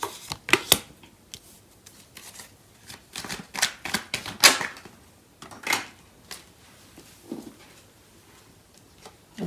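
Tarot cards shuffled by hand during a love reading, a run of crisp, close riffling and slapping bursts in uneven clusters, louder in the middle, alone without talk.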